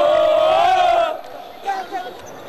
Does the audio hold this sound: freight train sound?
no